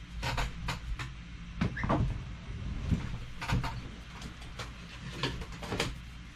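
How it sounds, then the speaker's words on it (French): A drawer is pulled open indoors in a series of sharp wooden knocks, scrapes and rattles, several distinct clunks spaced irregularly over a few seconds, close and moderately loud with no talking. "Je vais ouvrir le tiroir, puis je vais l'avoir."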